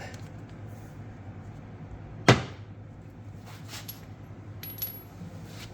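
A flashlight drops and clatters once, sharp and close, as the loosened front strut knuckle pulls free on a 2017 Kia Soul, with quiet shop ambience before and after.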